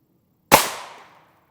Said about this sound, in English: We should see maximum velocity out of this gun here.